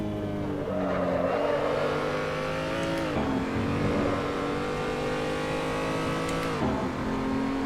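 A race car in the Assetto Corsa video game screams around the Nurburgring Nordschleife, its engine revving up and down through gear changes with a steady, loud drone and a sharp drop around each shift.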